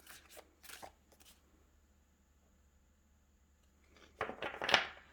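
Tarot cards are shuffled close by, a brief papery riffle at the start and a louder, fuller burst of flicking and sliding near the end, with quiet gaps between.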